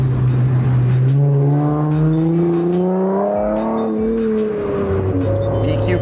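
An Infiniti luxury car with a Nissan VQ V6 engine accelerates hard from 0 to 60 mph, its loud engine note rising steadily through the gears with a brief dip at a shift, heard close up.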